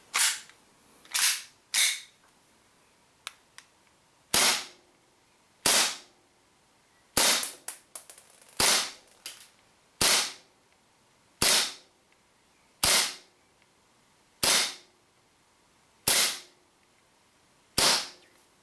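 A WE Sig Mark 25 gas blowback airsoft pistol fires about a dozen sharp, close single shots at a slow, uneven pace, each crack followed by a short hiss of decay, with a few faint clicks between them.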